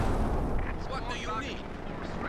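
Artillery fire in the video game Company of Heroes 2 gives a continuous heavy, rumbling bombardment with overlapping booms, loud throughout the short stretch, with a commentator's voice over it.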